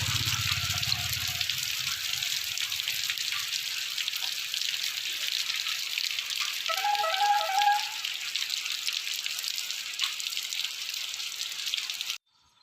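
Heavy rain pours down in a village, a dense, steady hiss of falling water lasting several seconds before cutting off abruptly.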